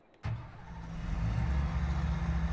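A tractor engine in Farming Simulator 22 kicks in abruptly and settles into a deep, steady, rumbling idle that grows slightly louder, close and continuous.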